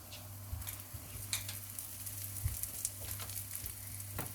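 Oil sizzling on a green gram adai dosa on the pan, a steady quiet frying hiss with a few faint scrapes and taps scattered through.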